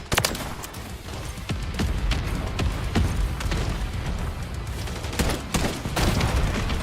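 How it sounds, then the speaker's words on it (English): Friendly mortar strike in a video game: a dense, continuous barrage of booms and heavy thuds rolls on without pause, with sharper blasts punching through the rumble throughout. "Friendly mortar strike is underway."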